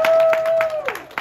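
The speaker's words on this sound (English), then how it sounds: "Yes, that deserves a round of applause." Airport gate crowd at a Frontier Airlines inaugural Orlando to Montego Bay flight breaks into brief, loud applause, a short burst of clapping with a sustained tone over it.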